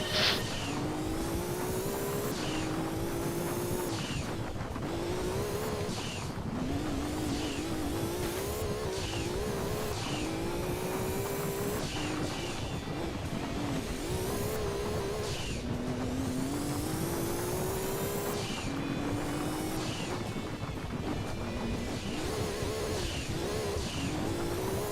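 Race car engine in Gran Turismo 2 roaring continuously at high revs, with repeated upshifts and rising pitch sweeps, occasional tire squeal, loud and close throughout with no talk.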